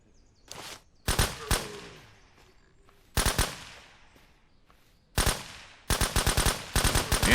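Automatic gunfire in the SurrounDead video game, with several sharp bursts of rapid shots separated by short quiet gaps, loud and close, with a long rattling string of rounds near the end.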